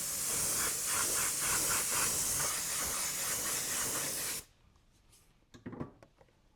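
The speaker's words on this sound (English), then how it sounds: "So we're going to spray the rest of this primer gray" A steady, loud hiss of gray aerosol primer spraying onto a Kyosho Dune Master RC car body runs continuously for about four seconds, then cuts off abruptly, leaving faint quiet rustles and small knocks.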